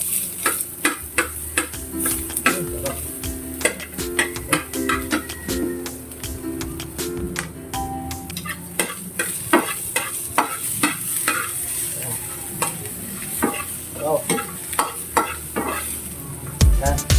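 Chopped onion and crushed garlic sauté in a pan for a sardine dish, a steady sizzle running throughout with frequent sharp scrapes and taps of stirring, close and fairly loud.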